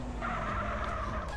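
A car skids in the MTA Paradise video game, a steady tire-scrub hiss with engine rumble running for about a second and a half, loud and close with no talk.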